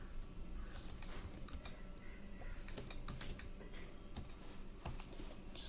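Steady, fast typing on a computer keyboard, a dense run of close, crisp key clicks and taps filling the whole stretch with no voices.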